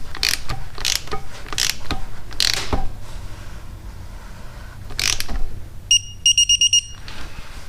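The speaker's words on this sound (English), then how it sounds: "Tightening this one to 18 foot-pounds." Torque wrench tightening the front brake caliper bolts on a 1983 Honda Shadow 750, with scattered metallic clicks and scrapes near the mic, then a quick run of sharp, evenly spaced ratchet-like clicks toward the end.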